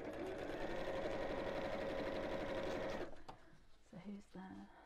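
A sewing machine stitches an evening bag with a fast, steady whirring run for about three seconds, then stops as a voice speaks briefly nearby.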